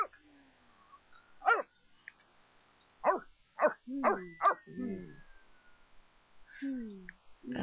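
A dog in The Sims 3 barks in a short series of sharp, separated yips and woofs, with a soft whimper between them. The barks are close and clear over a quiet game background.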